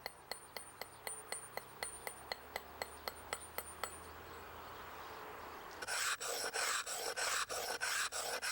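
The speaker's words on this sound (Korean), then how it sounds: "다시 도끼 모양의 망치로 잔다듬을 한다." An axe-shaped hammer dresses a stone surface with faint, sharp, evenly spaced taps about twice a second, followed by louder, harsher rasping bursts.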